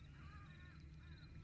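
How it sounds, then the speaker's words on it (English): In a video game, a crow gives two drawn-out harsh caws, faint and distant beneath a steady low ambient drone. "Hearing like a crow."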